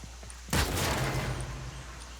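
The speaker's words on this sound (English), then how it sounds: "My gun's special ability caused an explosion." A sudden loud burst of gunfire and explosion from a weapon's special ability in the Warframe video game, sharp onset then a rumbling decaying tail, with no talking.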